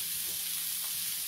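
Prawns sizzle in a frying pan as a steady, close hiss of hot oil, with faint soft stirring bumps underneath and no voices.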